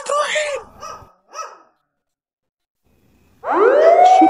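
A few brief vocal sounds, then silence, followed by a loud police siren starting up and wailing upward nearby.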